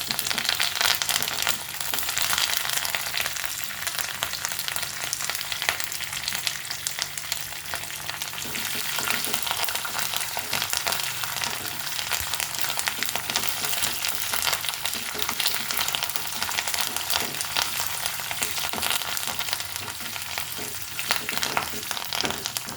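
Curry leaves and dried red chillies sizzle in hot oil, a dense, continuous crackling hiss that stays loud and close for the whole stretch, with faint stirring and no voices.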